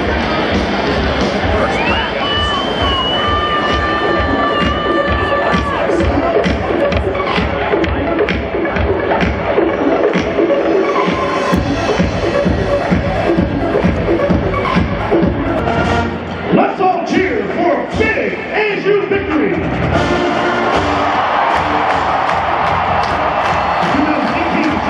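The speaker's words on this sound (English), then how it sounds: "Let's all cheer for big ASU victory!" A packed crowd at an ASU football game in the new Sun Devil Stadium roars and cheers in a continuous loud wash, with whoops and shouts rising out of the babble and several voices nearby.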